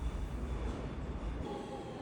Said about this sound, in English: now I'm taking the train to the airport